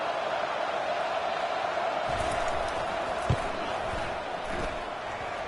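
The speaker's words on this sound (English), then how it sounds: "and here comes the crowd noise." Stadium crowd roar from the College Football 25 video game during a tied late-game two-point try, a steady broadband wash of cheering with a few sharp thumps, continuous throughout.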